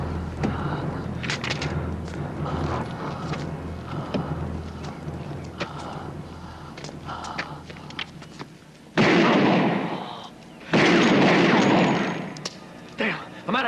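Gunfire from firearms in a 1988 FBI shootout, with scattered close shots over a rumbling background, then louder sustained bursts toward the end. No one speaks.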